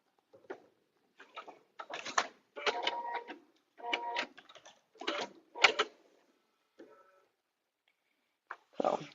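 A home sewing machine runs short bursts of locking stitches, stopping and starting in quick buzzing runs separated by silent pauses, close and fairly quiet.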